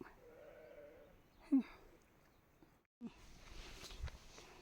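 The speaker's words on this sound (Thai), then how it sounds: "ข้างหน้ามีแกะแล้วนะ แกะ แกะคนอื่นเขา แพะแพะไม่ใช่แกะ" Goats bleating along a path at an outdoor second-hand market: a faint drawn-out bleat near the start, then scattered shorter calls and footsteps over quiet background noise.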